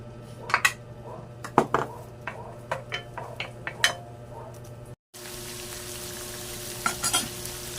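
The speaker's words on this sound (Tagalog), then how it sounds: "Igisa natin yung sibuyas sa bawang." Onion and garlic sautéing in a pan for pork spare-rib caldereta: a steady sizzle broken by sharp spatula knocks and scrapes against the pan, a brief dropout, then softer frying continues.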